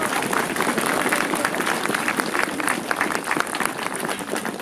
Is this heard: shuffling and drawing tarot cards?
no